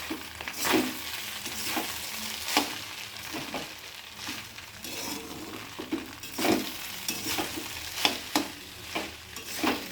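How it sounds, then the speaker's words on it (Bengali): Rice being fried and stirred in a pan, with a constant soft sizzle and repeated sharp scraping strokes of a spatula at an irregular rhythm, close and fairly quiet, with no talk. "রাইস ভাজা হচ্ছে, তারপর পরে একটু ভেজে নিই।"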